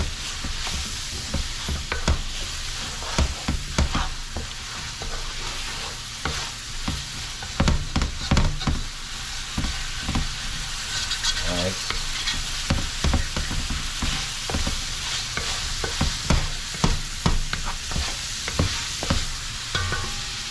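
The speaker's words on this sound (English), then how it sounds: "once I get everything, all the good stuff off the sides of the pan here" A spoon scrapes and stirs around the sides of a hot pan of sizzling onions for an oxtail stew, steady frying hiss broken by repeated sharp scraping strokes.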